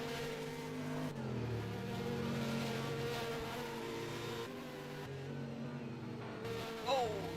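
Race cars including a Porsche 911 run a GP GTI feature race on a road course, engines droning steadily at moderate distance with shifting pitch and a brief rising rev near the end, under a faint commentary voice.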